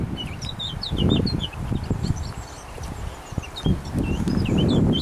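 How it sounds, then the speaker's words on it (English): Gusts of wind buffet outdoors in uneven low rushes along a riverside walk by an old flax mill in the UK, while small birds chirp in the background. "Whoa, it's getting windy."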